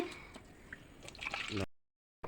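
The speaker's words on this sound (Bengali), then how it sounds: "এখন আমি চালটা ভালো করে ধুয়ে নেব" Chopped elephant apple (chalta) pieces being rinsed in water for a homemade pickle, with a few close wet drips and squishy handling sounds over about a second and a half before cutting to silence.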